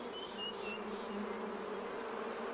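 Honeybees buzz around baobab flowers in the wild, a steady, soft drone of many wings with a few brief nearer passes rising above it.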